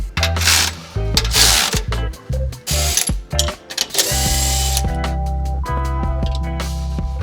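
Ratcheting bursts of a wrench tightening U-bolts on a budget Toyota 4Runner rock-crawler suspension, then a steady mechanical whir. Close, loud and with no talk.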